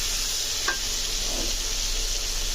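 Lotka dried fish fries in a pan with a constant close sizzle, and a brief stir scrape about midway cuts through the steady hiss; no one speaks.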